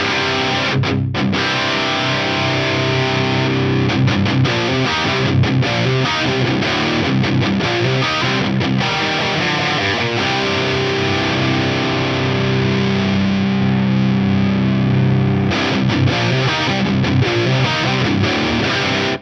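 Heavily distorted electric guitar plays continuous loud riffs and chords through an amp, dense and saturated throughout, with a brief pause in the middle of the playing.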